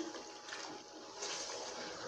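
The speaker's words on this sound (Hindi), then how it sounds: "तो अब मैं इसके अंदर थोड़ा सा पानी ऐड करूँगी" Water splashes into browning masala frying in a pan for rohu fish curry, giving a steady, fairly loud broadband hiss and sizzle that runs unbroken through the whole moment.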